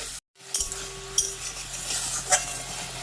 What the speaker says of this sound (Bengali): মশলার পেস্টটা দিয়ে দিলাম, দিয়ে ভালো করে এটাকে কষিয়ে নেব